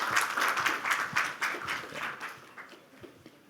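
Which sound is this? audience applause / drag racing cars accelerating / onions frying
audience applause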